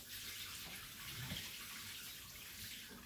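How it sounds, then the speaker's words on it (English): Soaking water drains from rice, a faint, steady watery rush, like a tap or a sink emptying, in a home kitchen while sticky rice cakes are being prepared. "And then drain the rice water."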